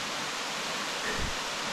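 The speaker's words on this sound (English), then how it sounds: "This waterfall is a lot smaller than what I expected, about 5 metres." A small waterfall about five metres high in a forested creek, a constant broadband rushing of falling water, steady and fairly near, with no voices.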